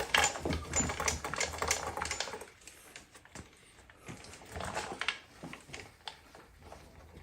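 A car headlight lens is polished by hand, a soft continuous scrubbing and patter that rises and falls, fairly quiet and close.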